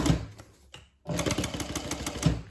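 A sewing machine top stitches along a fold of fabric on a Denver Double Zip bag, running in a steady mechanical whir that pauses briefly and then resumes at a brisk, even pace, close and clear.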